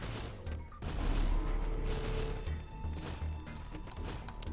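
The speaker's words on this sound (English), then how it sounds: "I got a breach missile here" A breach missile fires in a video game, giving a dense, loud rumbling burst of explosive fire with crashing impacts that sustains across the whole stretch, close and without speech.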